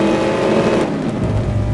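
A blown big-block drag car engine revs loud and close in the mobile game No Limit Drag Racing 2.0, one sustained roaring rev with its pitch shifting across the short burst.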